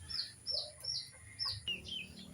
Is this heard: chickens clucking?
yes